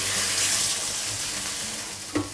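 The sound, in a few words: beer poured into wok while cooking fish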